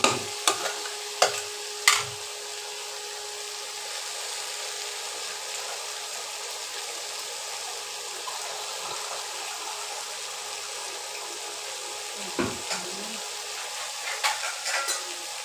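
Water poured into a frying pan of Bengali-style egg soybean curry gives a steady, faint sizzle, with a few sharp clinks of a utensil at the start and near the end.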